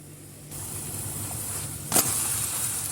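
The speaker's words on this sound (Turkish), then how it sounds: "Şöyle birazcık üzerine sonra kenarlarına tekrar yağ gezdiriyorum." Oil drizzled around the edges of a dill crepe sizzles in a hot pan, a steady close hiss that swells briefly partway through, with no talking.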